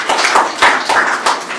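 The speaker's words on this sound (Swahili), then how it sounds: "Hebu tupigeni makofi" A crowd at a school ceremony honouring high-achieving teachers claps hands in a few short irregular bursts, loud and close, with no voices over it.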